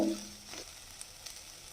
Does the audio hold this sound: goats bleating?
no